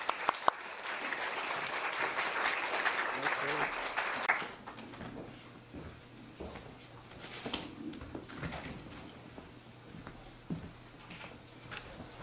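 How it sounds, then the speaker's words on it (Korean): An audience welcomes lawyer Hong Seong-woo with a dense round of applause lasting about four seconds, which stops abruptly. Quieter room noises, shuffling and faint thumps follow as he comes forward. "홍 변호사님 박수로 맞이해주시기"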